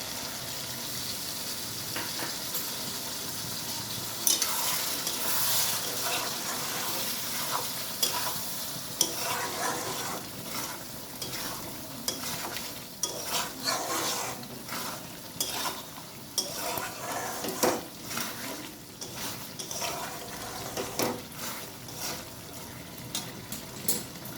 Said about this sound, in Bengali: দেখো মশলাটা হালকা হালকা কষে এসেছে, আবার দিয়ে দেবো অল্প একটু জল।